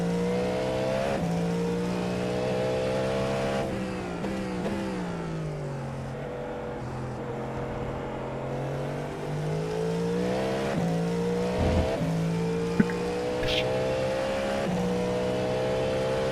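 LMDh prototype race cars, including a Cadillac and a Porsche, run at Daytona in a video game, with a steady droning engine tone rising and falling through gear changes across the whole stretch, moderately loud and without talk.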